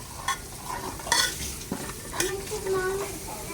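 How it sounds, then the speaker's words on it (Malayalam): Fish frying in a pan, a steady close sizzle with a few clinks and stirring scrapes over it. "ഇത് കാട്ടിലെ മീൻ ഫ്രൈ ആയിക്കൊണ്ടുണ്ട്"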